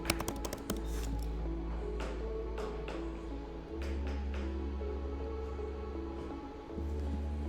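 Fingers type on a computer keyboard, a quick run of crisp clicking keystrokes near the microphone over a steady low hum, with brief pauses between bursts.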